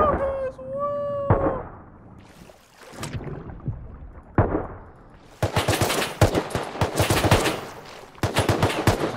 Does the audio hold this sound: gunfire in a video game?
yes